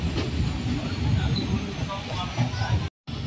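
A 15777 tourist special train pulls out of Chalsa station with a continuous loud rumble and rattle heard from on board, a voice speaking over it, and a brief dropout near the end.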